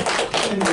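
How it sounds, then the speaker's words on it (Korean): A brief, dense burst of audience applause at a seminar on the emissions trading scheme, many hands clapping loudly and close together. "일단 우리 안희미 선생님한테 박수 부탁드립니다."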